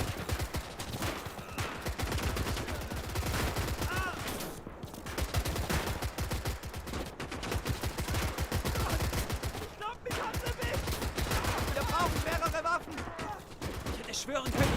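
Sustained rifle and machine-gun fire in the WW2 video game Gates of Hell: Ostfront, with dense volleys and bursts packed closely together over loud battle din for the whole stretch.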